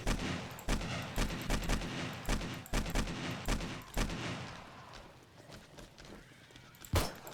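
AK rifle gunfire in the 7 Days to Die video game, heard as a rapid string of shots that fades out after a few seconds, followed by one final louder shot.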